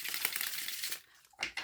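Broken Mirror tarot cards shuffled up close, a dense papery riffle of rapid flicks for about a second, a short pause, then another quick burst of shuffling; no voices.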